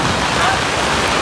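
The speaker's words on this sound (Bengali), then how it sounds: "প্রচণ্ড জোরে বৃষ্টি হচ্ছে, এত জোরে বৃষ্টি।" Heavy rain pours steadily during a downpour in an outdoor street setting, a dense continuous hiss that stays loud and unbroken throughout with no clear voices.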